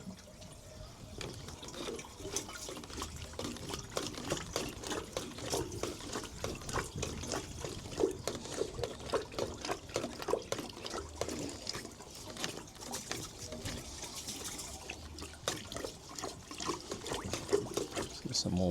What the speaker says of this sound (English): how fast that water is flowing